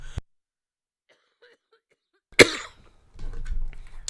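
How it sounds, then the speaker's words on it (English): A single sharp cough breaks a quiet room, followed by a short low throat noise; a faint click comes just before. "Sorry guys, I got a cough."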